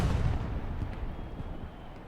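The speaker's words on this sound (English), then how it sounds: "Explosion, I think that was from a truck, though." Distant rumbling blast from a German truck blowing up in the WWII shooter Hell Let Loose, a low booming burst amid continuous battlefield rumble and artillery fire during a competitive match.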